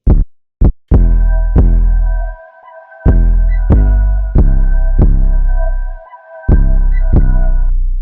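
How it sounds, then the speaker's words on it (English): A deep synth bass made in FL Studio plays a simple pattern of plucked notes with a sustained tone on top, the notes sounding roughly every half second, loud and alone. "very simple bass line"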